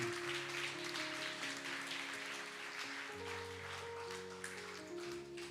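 A church congregation claps for the Lord in a soft, continuous wash of applause while sustained organ or keyboard chords play underneath.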